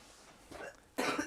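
A single sharp cough from a woman, fairly close and moderately loud, bursting out after a brief softer breathy sound, with no talk over it.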